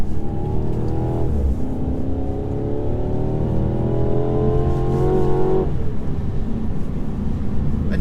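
A 2017 Mercedes C200 coupe's 2-litre engine pulls hard under acceleration, its tone climbing steadily for several seconds before a gear change drops the pitch, a continuous close cabin drone throughout.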